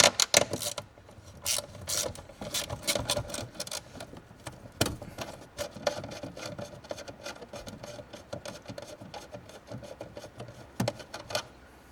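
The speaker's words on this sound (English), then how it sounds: "this is totally why I use my adjustable ratchet" An adjustable 1/4-inch ratchet turns an 8mm socket on a Volkswagen MK4 Golf/Jetta rear bumper, giving bursts of close, sharp clicking that stop and start irregularly.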